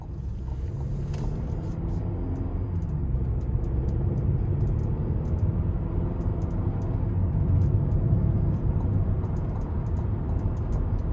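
A 2027 GMC Acadia Denali Ultimate with front-wheel drive accelerates on the road, heard from inside as a steady low engine and road rumble that builds gently and holds, with no talking.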